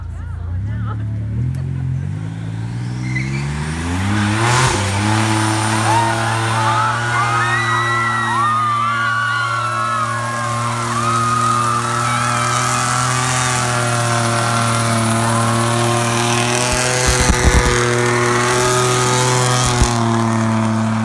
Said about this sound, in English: gender reveal burnout that is actually very popular